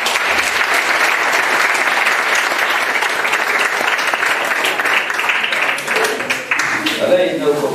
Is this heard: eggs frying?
no